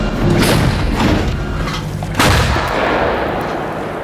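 Heavy self-propelled artillery booms out in loud, rumbling blasts, one big report partway through with echoing roar filling the space outdoors.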